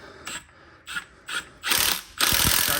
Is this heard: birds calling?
no